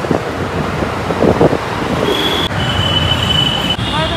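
A metro train rolls in with a loud rumble, and its wheels let out a high, sustained squeal as it slows.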